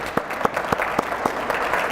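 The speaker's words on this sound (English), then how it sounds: "I'm hoping that you'll join me in applauding Kevin" Brisk clapping from a small group at a leadership award program, with a few sharper claps standing out in a loose, fairly even rhythm.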